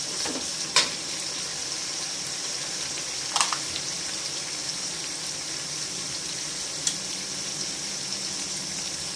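Onions and tomatoes sauté with salt in a pan for chicken gravy, making a steady soft sizzle throughout, with a few brief clinks and scrapes of stirring. No one talks.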